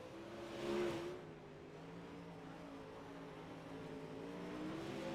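A super late model race car at Limaland rolls out onto the racetrack, its engine a sustained, moderately distant hum with a brief swell near the start and a slow build toward the end.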